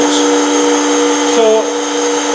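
An oil centrifuge spinning contaminated oil used for testing power steering pumps gives off a loud, steady mechanical whine with stable humming tones, briefly joined by a voice.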